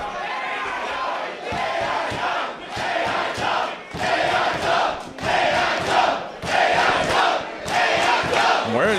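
A wrestling crowd in an arena roars and chants in rhythmic, pulsing bursts, loud massed voices rising and falling in repeated waves.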